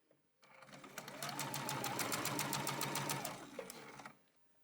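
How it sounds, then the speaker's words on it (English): A sewing machine runs a steady run of top stitching along the fabric loops for a purse strap, its rapid even needle rhythm starting and stopping cleanly at close range with no talk. "Okay, top stitching is done."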